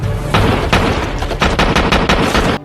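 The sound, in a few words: gunfire sound effect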